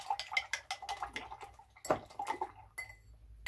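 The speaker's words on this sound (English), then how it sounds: "I'm just going to clean off my brush" A paintbrush loaded with metallic gold Folk Art acrylic paint is swished vigorously in a cup of water. Close, wet clinks and sloshes repeat in quick bursts, with a short pause before a final splash.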